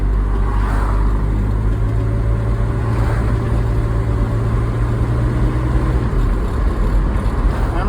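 A 1988 Mazda B2200 pickup truck on a test drive, its engine and road noise a steady, loud drone throughout with a low hum, no talking.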